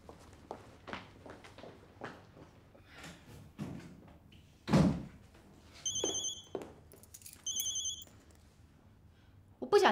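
A telephone bell rings in two short electronic bursts, preceded by soft footsteps and small thuds in a quiet room.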